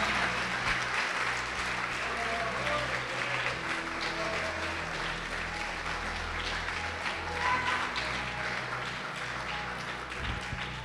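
A church congregation applauding during a worship service, a continuous wash of many hands clapping at moderate level, steady for the whole stretch, with faint organ-like tones running beneath.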